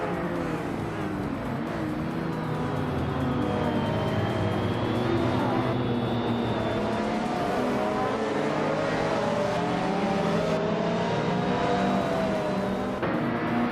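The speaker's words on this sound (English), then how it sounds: "Leading the pack from pole is the retro supercar Vagrant Enchanter, cruising in a 1994 Venturi 260." A 1994 Venturi 260 race car engine in a racing video game holds a steady, loud drone throughout, its pitch rising and sliding as the car cruises at speed.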